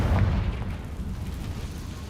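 A Confringo spell explosion in the Hogwarts Legacy video game, a deep booming blast at the start that quickly decays into a low rumbling tail, loud and close.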